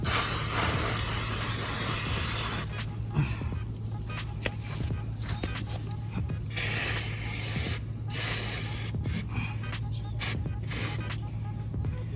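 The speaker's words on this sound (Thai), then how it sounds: "เขาก็จะฉีดทิ้งไว้นะสเปรย์ล้างโซ่" Repeated hissing bursts of an aerosol chain cleaner sprayed onto a motorcycle chain, some long and some short, close by, with pauses between them and a low hum underneath.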